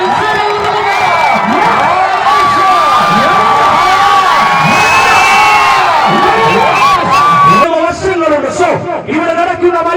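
A crowd at a tug-of-war contest in Ramapuram, with seven-person teams in a 450 kg weight category, roars, whoops and shouts loudly and continuously, close by and dense throughout.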